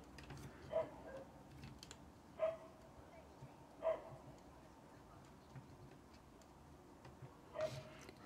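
A neighbour's dog barks somewhere off at a distance. Four short, widely spaced barks rise faintly above quiet room tone.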